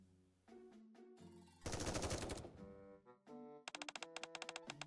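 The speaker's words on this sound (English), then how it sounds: "I listen closely and catch the faint sound of gunfire in the distance." Bursts of rapid gunfire rattle inside the video game Goddess of Victory: Nikke, with a loud crackling volley in the middle and a fast staccato burst at the end, mixed with game tones.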